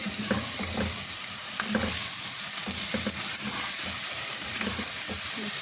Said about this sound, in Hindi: 2-3 मिनट अच्छी तरह से इसको भूनेंगे